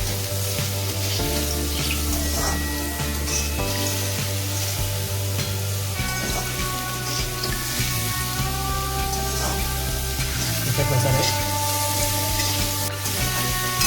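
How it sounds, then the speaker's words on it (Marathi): Mushrooms frying in oil until crisp give a steady sizzle under a layer of background music, with occasional faint stirring sounds and no speech. "चांगली फ्राय करून घ्यायचे क्रिस्पी व्हायला पाहिजेत हाताने क्रिस्पी लागायला पाहिजेत त्यासाठी फ्राय करून घ्यायचे आहेत नॉर्मली चांगला तेलामध्ये"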